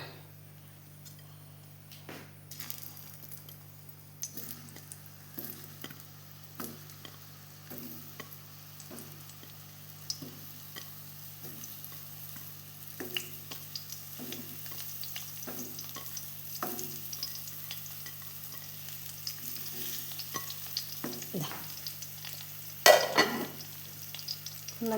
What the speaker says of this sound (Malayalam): ഒന്ന് മെല്ലെ ഒന്ന് ഇളക്കി കൊടുക്കാം.